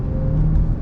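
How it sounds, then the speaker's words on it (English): A car drives past on a road during a driving lesson, a steady low engine rumble and tyre roar heard from inside a moving vehicle, continuous and moderately loud throughout. "you can hear this car"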